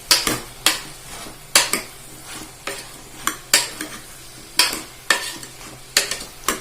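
Cauliflower pieces sautéing in a pan for biryani are stirred with a utensil, sharp scraping clacks against the pan at a steady rhythm over a soft sizzle, close up and with no voices.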